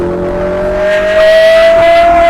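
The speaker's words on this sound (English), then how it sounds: "Let's hear that V12 open up." A V12 supercar engine, a Lamborghini, revs and accelerates hard on a supercar rally, its loud steady drone climbing in pitch over two seconds and swelling louder near the end.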